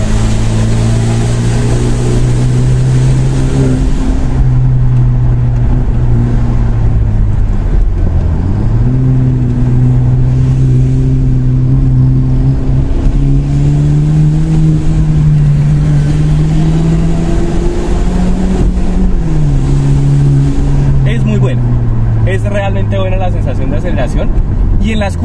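Hyundai Genesis BK car accelerating hard with stability and traction control partly off: loud, sustained engine drone rising and falling through gear changes, with someone talking over it.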